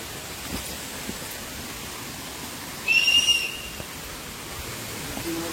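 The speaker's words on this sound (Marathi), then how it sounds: "पावसाची सतत धार चालू आहे." Steady monsoon rain falls during a ghat trek in the hills, a continuous soft hiss throughout, with a brief high whistle-like tone breaking through near the middle.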